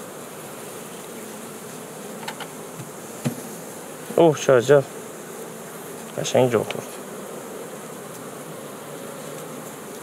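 Honeybees hum steadily around an opened hive during a spring inspection, with close buzzing bursts as individual bees pass near, while a person speaks briefly.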